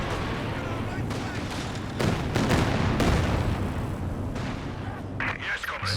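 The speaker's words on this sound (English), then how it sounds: "Barrage not hitting too much." Artillery barrage in Company of Heroes 2, dense booming explosions and rolling gunfire over a constant battle rumble, heavy and continuous with talk running through it.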